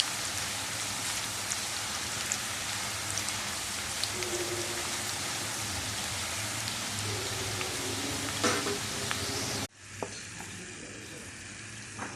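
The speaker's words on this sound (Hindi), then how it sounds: "जो पापड़ी हमने बचाई थी उसको अब हम फ्राई कर रहे हैं" Leftover samosa pastry strip cuttings frying in hot oil give a dense, steady sizzle and crackle, close and constant, that cuts off abruptly and continues more quietly near the end.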